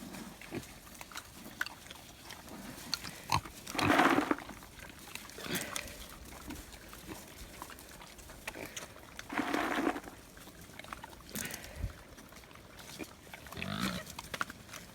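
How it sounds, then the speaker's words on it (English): Several pigs on a farm in central Portugal eat scattered acorns, grunting and snuffling in repeated bursts at close range, with louder squeals now and then and no talk over them. "Right, you ready, pigs? You ready? Go for it. Acorn party time."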